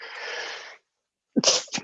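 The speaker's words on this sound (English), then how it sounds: "One second, I need to sneeze." A breathy inhale followed by a sharp, close allergy sneeze into an elbow, one single burst after a short pause.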